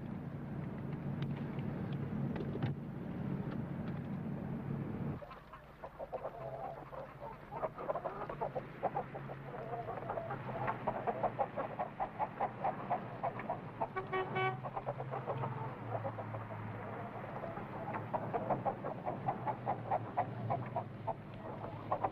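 Chickens at a poultry farm cluck and squawk in an overlapping chorus that goes on for over twenty seconds, fairly close, over a low rumbling background.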